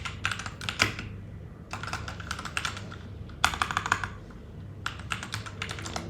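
Someone types a heading on a computer keyboard in bursts of quick, close key clicks separated by short pauses over a low steady hum.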